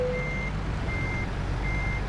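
Kenworth truck backing up in American Truck Simulator: three evenly spaced electronic reversing beeps over a steady low engine rumble, close and clear with no talk.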